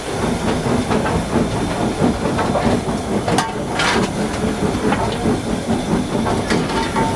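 Inside the cab of a Victorian steam locomotive, loud continuous steam hisses and roars, with rhythmic clanking and rattling of the running engine beneath.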